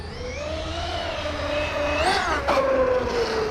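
A Traxxas Sledge RC truck fitted with a Castle Mamba Monster X 8S 1650KV motor is running. Its electric motor gives a steady whine that rises and dips in pitch as the throttle changes, close by and alone without voices.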